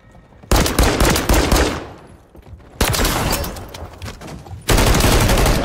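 Machine gun fire from Call of Duty MW3 rattles in loud, rapid bursts: one long volley, a brief lull, then two more sustained streams of automatic shots.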